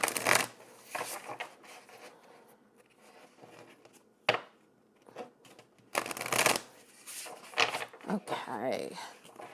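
An oracle deck is shuffled during a tarot reading in uneven, close bursts of papery riffling and tapping spread over several seconds, with quieter pauses in between.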